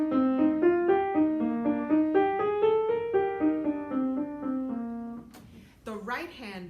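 Solo piano plays a short phrase demonstrating rhythmic grouping, a moving bass line under repeated upper notes in a steady pulse, up close and alone, then a brief voice at the end.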